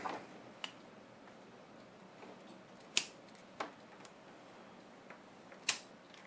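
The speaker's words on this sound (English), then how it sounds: "So I'll use scissors." Scissors trim the braided shield of an LMR400 antenna cable, making a few sparse, sharp snips spaced irregularly, with faint handling noise in between in a quiet room.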